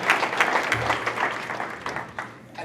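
Audience clapping at a Memorial high school Hall of Fame ceremony, a room full of hands producing uneven, fairly close bursts that rise and fall over a couple of seconds.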